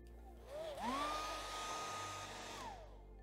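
A hair dryer drying paint on a canvas starts up with a rising whine, then blows with a steady, loud, close whoosh for a couple of seconds before winding down.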